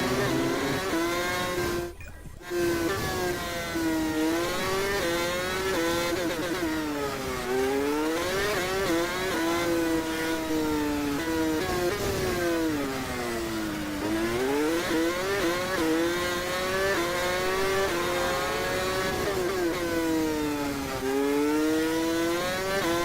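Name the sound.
F1 race car engine driving in F1 2016 video game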